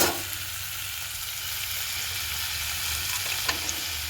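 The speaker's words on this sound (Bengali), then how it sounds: "এবারে এর মধ্যে দিয়ে দেব ভেজে রাখা পটল, দিয়ে দিলাম" Fried pointed gourd tipped into a pan with mutton fat, giving a loud, steady sizzle close by with light stirring scrapes and a couple of small taps near the end.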